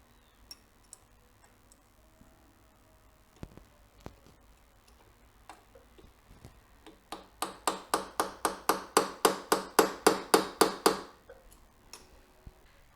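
A hammer taps a chisel against the steering head bearing nut of a 2004 Harley-Davidson Ultra Classic, first in a few scattered knocks, then a steady run of about fifteen loud, evenly spaced metallic strikes, with no talk.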